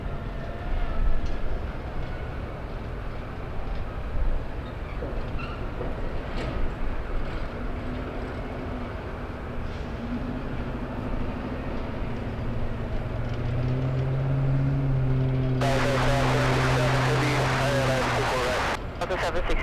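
An airliner begins its takeoff roll at Los Angeles International Airport, a low, steady engine rumble building as rising whining tones spool up and a sharp roar swells near the end, with people talking over it.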